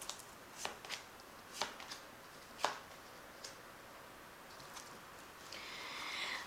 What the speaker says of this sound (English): I'm just going to cut it and draw 3 cards